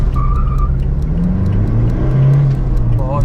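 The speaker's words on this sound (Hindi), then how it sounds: "जैसे ही एक्सेलरेशन दे रहे हैं गाड़ी बिल्कुल हिल जाती है।" A 2017 Toyota Fortuner 2.8L 4x4 manual diesel SUV with 174 bhp turbocharged engine accelerates in power mode, loud close engine roar rising steadily with a gear change, heard from inside the cabin.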